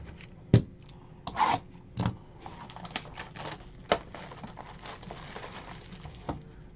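A box of 2018 Topps Archives baseball cards being ripped open, with sharp tearing and crinkling bursts spaced irregularly, close and fairly loud, the rest quieter rustling.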